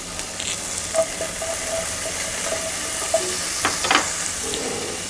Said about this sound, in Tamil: ஒரு 4 வெள்ளைப்பூடை பொடிசாக கட் பண்ணி வச்சுருக்கேன், அதை போட்டுக்கோங்க.